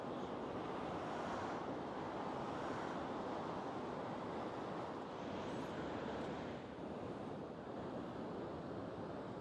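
Wind and surf at the Galveston fishing pier make a steady, faint, broad rush that holds throughout with light gusting and no voices.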